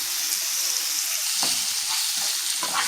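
About 300 grams of medium-sized chicken pieces fry for butter chicken pasta with a steady, close sizzle, while a few scraping stirs cut through in the pan.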